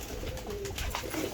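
Breeder pigeons in a small loft setup coo softly, a faint, low, brief murmur with no one talking.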